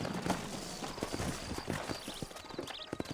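Horse hooves clip-clop at a walking pace in a western video game town, a steady series of close, distinct thuds with faint ambient sounds behind.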